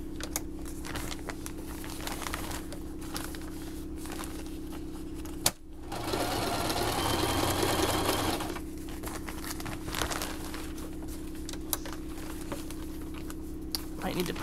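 Sewing machine zigzag stitching around the edge of a fabric baby changing mat, a steady fast mechanical whir that briefly stops and restarts, with a short pause and speech-like noise partway through.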